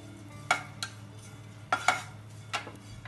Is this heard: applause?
no